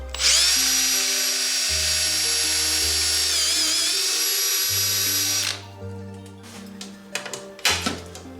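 A cordless electric drill whines loudly and continuously for around five seconds while boring into a part, then stops, leaving scattered workbench clicks and handling sounds.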